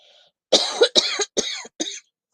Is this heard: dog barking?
no